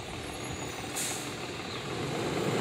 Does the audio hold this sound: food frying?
no